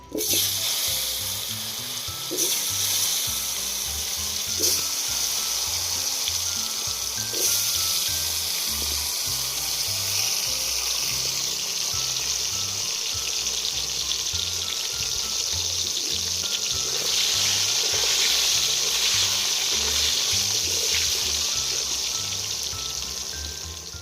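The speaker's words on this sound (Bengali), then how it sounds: "এবার আমি ভেজে নেব।" Salted, turmeric-coated potatoes fry in hot mustard oil in a kadai with a loud, continuous sizzle and crackle, steady and close throughout with occasional stirring scrapes.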